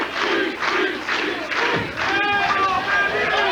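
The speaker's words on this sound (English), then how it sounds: "Crowd chanting for Weber" A crowd at a bowling tournament in a family fun center chants loudly and rhythmically for a bowler, the roar steady and close throughout with some shouting rising near the end.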